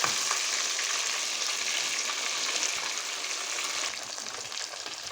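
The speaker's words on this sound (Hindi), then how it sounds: "इसी तरह से एक एक करके ना हम अपने सारे पीसों को फ्राई कर लेंगे" Chicken pieces fry in hot oil for a chicken steam roast, giving a steady, dense sizzle and crackle that stays close and loud throughout, easing slightly toward the end with no voices.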